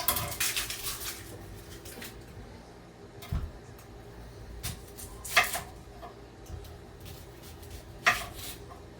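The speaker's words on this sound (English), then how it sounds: "Cut our onion" Knife chopping an onion on a home kitchen board while preparing spaghetti sauce: irregular close cuts and knocks, with a few louder thuds spread through quiet room tone.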